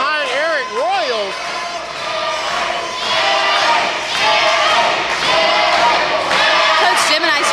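A wrestling crowd at a live CWF Mid-Atlantic event chants for Arik Royal, loud rhythmic shouting and cheering that swells and continues throughout, with yelled voices on top.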